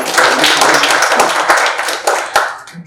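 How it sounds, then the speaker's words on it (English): A small audience at an academic problem-solving session claps for about three seconds, a close, moderately loud patter of hands that thins toward the end. "So let's give it a big round of applause."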